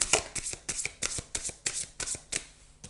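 Tarot cards being shuffled by hand in a quiet room: a run of about a dozen crisp riffling bursts at an even pace, close and clear, with no talking.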